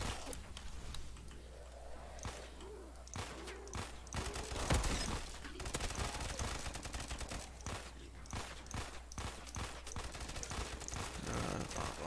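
Gunfire in a zombies shooter video game: continuous, dense bursts of rapid shots and impacts, mixed with game effects, at a steady moderate level throughout.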